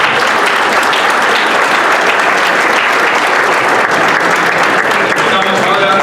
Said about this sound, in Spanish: Nos despedimos con un aplauso.